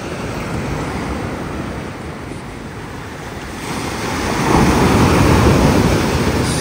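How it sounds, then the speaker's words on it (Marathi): Sea waves wash against a rocky shore on the Kerala coast, a loud, continuous roar of surf with wind noise, swelling louder toward the end. "असा आवाज येतो समुद्रांचा."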